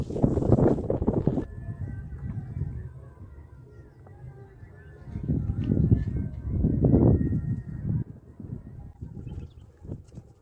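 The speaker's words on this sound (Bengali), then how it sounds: "প্রচুর হাওয়া রয়েছে কিন্তু দেখেছি আজকে দক্ষিণে হাওয়া রয়েছে" Strong south wind buffets the microphone in heavy gusts over a Sundarban river, rising and falling with a low roar, with quieter stretches between the blasts.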